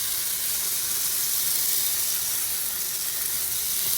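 Rice-starch batter, made from leftover rice water, spread in hot oil on a tawa. It gives a continuous, even sizzle and hiss, close and steady with no pauses.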